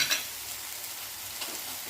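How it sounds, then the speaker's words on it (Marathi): Onion paste fries in a pan with a steady, close hiss of sizzling oil and a few faint clicks of stirring, unbroken and alone, with no talking. "कांद्याची पेस्ट थोडीशी भाजत आलेली आहे"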